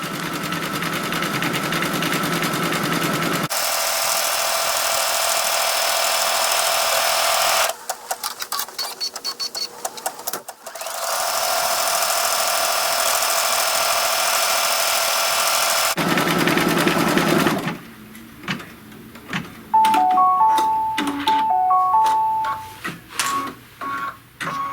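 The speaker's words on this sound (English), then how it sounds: "Now it's going to be stitching the little ribbon casing." A home sewing machine stitches a small ribbon casing in white thread on a butterfly cinch sack, running in several loud, steady bursts with short pauses, then stopping and starting in choppy spurts near the end.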